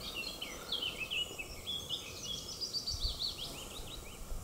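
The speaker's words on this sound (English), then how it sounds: "Of course, you can hear all the birds from Bealtaine Cottage." Small birds chirp and sing outdoors around a rural cottage garden, with repeated high, bright calls over a soft, steady ambient rustle.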